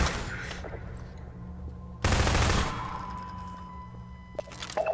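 Gunfire in Half-Life 2, a sudden loud burst of shots under steady game ambience, followed by fainter scattered pops near the end.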